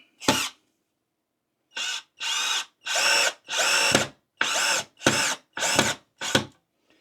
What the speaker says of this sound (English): And it drove that screw pretty good all the way through it.